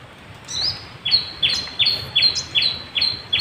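Sogon bird chicks in a teak forest chirp in a quick series of about eight bright, sharp calls, spaced roughly evenly and close by, with faint background noise.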